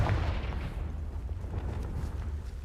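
A Confringo fire-spell blast in the Hogwarts Legacy video game: a loud, heavy explosive boom with a rolling low rumble that fades over a couple of seconds, no voices.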